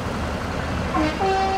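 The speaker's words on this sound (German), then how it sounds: "Darauf erstmal eine kleine Hupe." A truck horn in the off-road driving game SnowRunner, sounding for a TUZ 420 Tatarin, gives a short tonal honk and then a longer sustained blast over a steady engine rumble.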